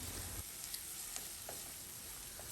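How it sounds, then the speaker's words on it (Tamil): Sliced onion, garlic and curry leaves sauté in oil in a pan for a fenugreek gravy, giving a steady, soft sizzle with faint crackles throughout and no voices. "வெங்காயம் லைட்டாக வதங்குற வரைக்கும் குக் பண்ணிக்கலாம்"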